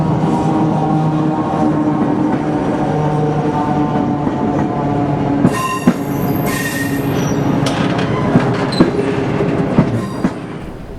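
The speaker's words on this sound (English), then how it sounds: "9317, operating under dynamic brakes, brings in the overland from Adelaide" Pacific National locomotive 9317, under dynamic brakes, rolls slowly and loudly into Melbourne's Southern Cross station with the Overland passenger train from Adelaide, engine droning with metallic clanks and sharp wheel squeals toward the end.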